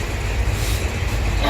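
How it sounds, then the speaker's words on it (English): A passenger train in India approaching a junction, heard from inside as a steady, loud low rumble of the rolling carriages with a broad rushing noise and no clear voices. "Here's Tom looking out the train because we're coming into Hospot Junction"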